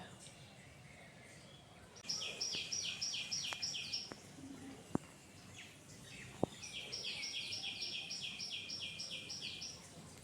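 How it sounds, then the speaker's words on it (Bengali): Early-morning birds in Bolpur give two long runs of rapid, repeated chirping trills, fairly faint, with a few sharp clicks and knocks in between against quiet background hiss. "শুনতে পাচ্ছেন পাখির এই কলরব?"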